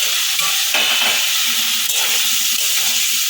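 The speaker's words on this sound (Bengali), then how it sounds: "বেটে রাখা মশলাটা দিয়ে দেবো" Ground spice paste sizzling and frying in a little oil for a Bengali jhinge dal bori curry, a steady close hiss with soft stirring scrapes throughout, no voices.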